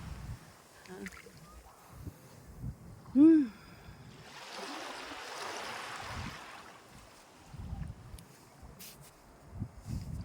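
Soft surf washes in over several seconds, a broad swell of wave noise rising and fading, with light wind and scattered handling noises around it.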